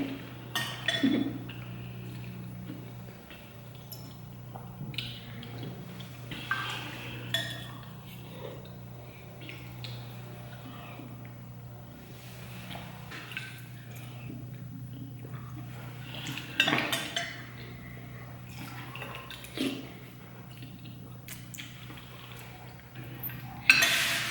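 A big spoon clinks and scrapes against a bowl while eating Samoan koko alaisa, soft sporadic taps and clatters spread out over quiet moments, with a louder knock at the very end.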